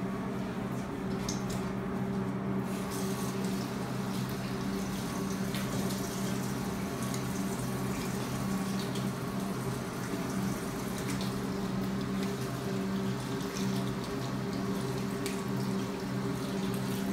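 Hands are scrubbed under a running faucet at a handwashing sink, the water pouring in a steady, close rush for the whole stretch, with faint splashing and no speech.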